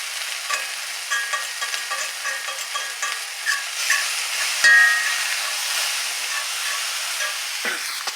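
Plant-based food cooking in a pan produces a bright, steady sizzle with frequent small scraping stirs, a brief heavier clatter partway through, and another near the end, all close and prominent.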